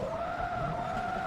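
A Corvette in Forza Motorsport 2 handbrakes into a sustained tire skid as it crosses the finish line, with a loud, steady squeal held over engine noise for just over a second and no talking.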